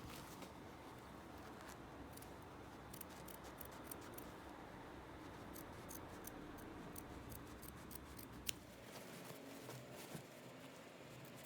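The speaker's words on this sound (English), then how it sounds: "Again, I'm using my small scissors." Small scissors snipping fabric at a v-neck facing, a series of quiet, close crisp cuts with light rustling of cloth in a calm room.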